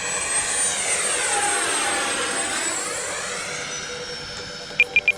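An FMS Rafale 80mm electric ducted-fan RC jet passes overhead, its loud whine sweeping down in pitch as it goes by, followed by three short electronic beeps near the end.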